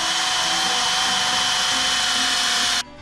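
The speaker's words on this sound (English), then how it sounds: "just gotta hit some of those corners, the edges, the hard to reach spots with the mini polisher" A mini polisher buffs car paint with a loud, steady, close-up whine that runs unbroken for a few seconds before abruptly stopping.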